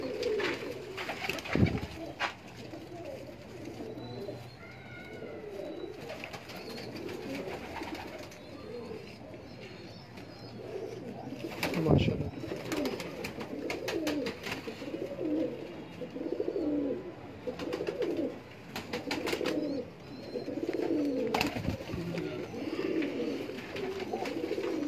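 Breeder pigeons coo steadily in low, rolling throaty calls, several birds overlapping continuously, with occasional sharp knocks and flutters nearby.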